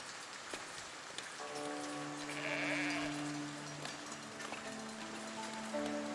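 A sheep bleats in the video game Foundation, a drawn-out wavering call at moderate distance over a steady rain-like hiss, with no talking.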